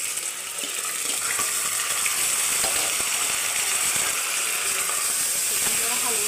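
Raw chicken tossed into hot ghee with green chillies for a curry sizzles and hisses steadily, a dense bright frying crackle with a few soft stirring clicks throughout.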